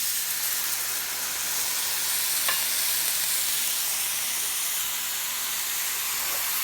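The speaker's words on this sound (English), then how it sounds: "now I'm going to add the cooking sherry" Cooking sherry hits a hot pan of garlic and mushrooms, producing a steady, even hiss and sizzle that holds throughout, with one faint clink partway through and no talking.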